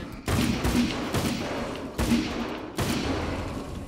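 Heavy gunshots in Alan Wake's American Nightmare, four loud booming blasts spaced roughly a second apart, each with a short rumbling tail.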